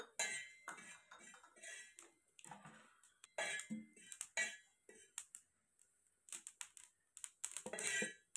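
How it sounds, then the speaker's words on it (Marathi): Sesame seeds roasting in a pan over a wood-fired stove, with sharp, irregular crackles and tinny scrapes of a spoon against metal, bursting in clusters between brief quiet gaps, close and crisp. "तीळ भाजून घ्यायचे, तीळ 2 चमचे घेतलेले।"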